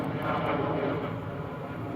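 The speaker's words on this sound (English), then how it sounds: "Another Romulus airplane overhead." Airplane passing overhead near Romulus, a faint, steady broadband engine roar in the distance outdoors, heard on its own for a couple of seconds.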